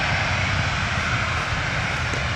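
A Ryanair airliner at Manchester Airport produces a steady, broad engine roar that holds at an even level throughout, with no voices.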